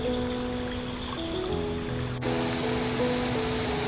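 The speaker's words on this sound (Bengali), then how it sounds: "বৃষ্টির পর নদীতে এখন জলস্তর অনেকটা বেড়ে গেছে।" A river swollen after rain rushes through the Singalila forest near Darjeeling at dusk, its continuous wash steady and close, with thin sustained insect-like tones layered above.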